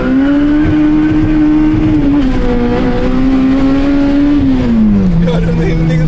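A K24-engined car revs hard in a burnout and then accelerates, its loud, steady engine drone climbing and dropping in pitch with gear changes throughout.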